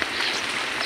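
Steady rain hissing on a surface, a dense continuous wash of drops with no voices.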